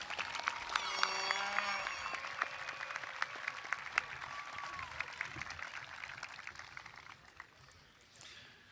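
A commencement audience at a college ceremony applauds its graduates, a sustained crowd clapping with scattered sharper claps and cheers, gradually fading toward the end.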